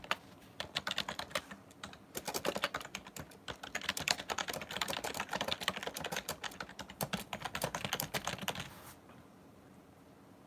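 Steady, rapid clicking of keys on a computer keyboard, close and fairly quiet, continuing for several seconds before stopping abruptly near the end, with no talking.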